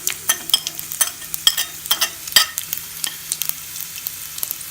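Cumin, mustard seeds and chana dal frying in hot oil, a dense close sizzle dotted with sharp crackles and seed pops throughout, no voices.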